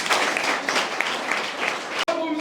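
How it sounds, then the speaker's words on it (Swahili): Audience applause at a regional youth-wing gathering in Mwanza, a dense steady clapping close by that cuts off abruptly near the end, leaving a short murmur of voices. "Pigeni makofi"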